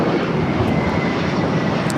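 A China Eastern airliner at Los Angeles International Airport gives a loud, steady jet engine roar that fills the whole moment without pause.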